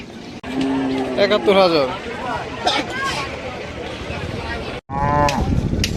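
Cattle at the Hazratpur Qurbani cow market moo loudly and close by, several drawn-out calls rising over busy crowd chatter and bargaining voices.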